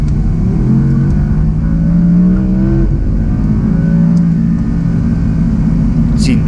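An Audi R8 with a 5.2-litre V10 producing 620 horsepower accelerates hard on the Jarama circuit, its loud, close engine note climbing in pitch, then dropping briefly at a gear change before rising again.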